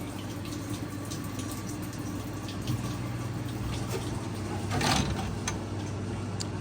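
The drain pump of a Maytag top-load washer runs with a steady low hum under the sound of moving water, close by and continuous, with a slight surge near the end.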